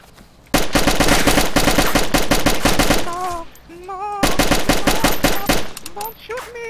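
Rapid automatic gunfire in a clan shootout video game, loud and close, with two long bursts broken by a brief pause and pitched electronic tones.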